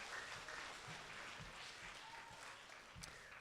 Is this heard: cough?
no